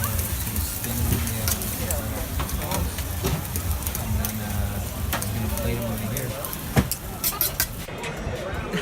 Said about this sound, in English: we are at this this like kind of fried octopus stand